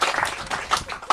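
Brief applause at a Save the Sound press conference in Bridgeport, a short burst of scattered clapping from a small group, heard close.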